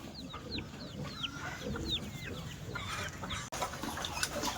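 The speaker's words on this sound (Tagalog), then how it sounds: "Marami ring mga manok dito yan oh." Chickens clucking on a farm, a busy chorus of short, repeated calls at a steady moderate distance, with faint background noise.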